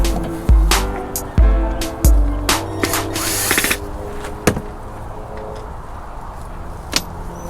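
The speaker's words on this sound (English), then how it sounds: "got this little Milwaukee little tool right here, man, little drill" A Milwaukee cordless drill backs screws out during a bass boat restoration, with short whirring bursts mixed with sharp clunks and rattles of handling nearby, then quieter scattered taps.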